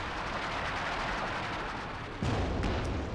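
Battle noise from the Company of Heroes 2 video game, with dense, continuous gunfire and artillery rumble from long-range shots at a mortar team, and a sharper burst partway through.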